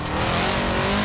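A Subaru engine drones loud and steady in Forza Horizon 4 as the car swings around to reverse direction, a brief close burst of revving with a hint of tire noise.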